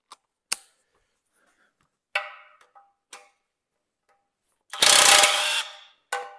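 A socket ratchet wrench works on the crankcase bolts of a Mitsubishi 4G15 turbo engine, giving a few sharp separate clicks and knocks, then a loud rasping burst of ratcheting about a second long, followed by one more click.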